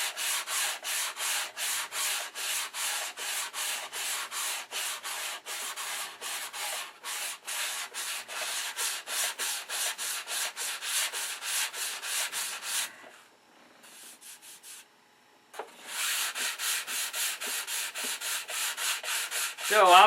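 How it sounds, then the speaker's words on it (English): Sandpaper rubs steadily back and forth over primer on a P-47 Thunderbolt scale model, close and continuous with rapid rhythmic strokes, pausing briefly near the end before resuming. "So I'll continue to sand here."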